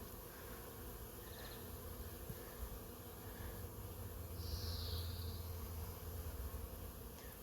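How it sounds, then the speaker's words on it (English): Agitated honeybees buzzing around a wooden Layens hive in a sunny bee barn, a faint, steady swarm drone with no voices over it. "Pissing my bees off."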